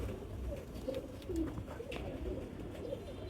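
A domestic pigeon kept in a home loft gives soft, faint cooing against a quiet room background, with a few murmured calls spread across the moment.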